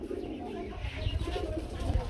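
A Shirazi pigeon coos in low, soft repeated calls close by, with some background noise around it.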